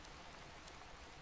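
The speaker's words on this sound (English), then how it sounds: "The rain continues outside." Steady rain falling outside on a night-time scene, a soft continuous wash of drops and patter, faint and even throughout with no voices.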